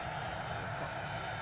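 A steady, loud broadband roar from an aircraft passing at Manchester Airport holds level for the whole short stretch, with no talk over it.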